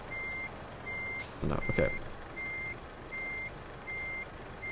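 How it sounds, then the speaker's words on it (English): Truck reversing alarm in Euro Truck Simulator 2: six evenly spaced electronic beeps, loud and steady, with brief speech and a short burst of noise midway. "the reverse sound"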